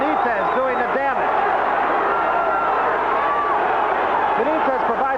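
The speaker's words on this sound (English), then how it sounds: "An uppercut and a left hand, and the crowd comes alive." A boxing arena crowd at the Wilfred Benitez vs Roberto Duran fight roars steadily after an uppercut and left hand, a dense, sustained cheer with a commentator's voice talking over it.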